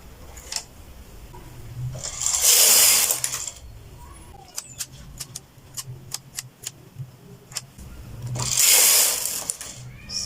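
A knitting machine works rows of striped baby trousers, its carriage swishing across in two long loud passes with a run of quick clicking ticks between them.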